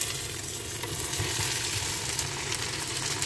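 Thick-cut onions fry in hot oil with bitter gourd, making a dense, continuous sizzle that stays close and loud throughout with no pauses.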